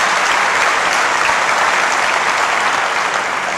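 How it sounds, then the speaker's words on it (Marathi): Loud, dense applause from an audience at a guidance camp for 10th and 12th grade students, steady and sustained throughout with no voices standing out. "म्हणून जोरात टाळ्या वाजल्या पाहिजे"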